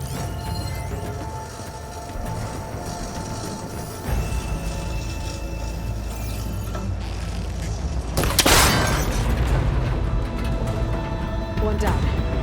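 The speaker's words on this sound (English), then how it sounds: "That connector's holding the cables together. It should break if I shoot it." In Horizon Forbidden West, an arrow strikes a cable connector and it breaks apart in a sudden loud, sharp crack partway through, set against steady game music and low mechanical rumble.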